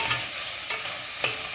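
Onions and green chillies fry in hot oil in a pan for a potato kurma, giving a steady close sizzle with a few soft scrapes of stirring.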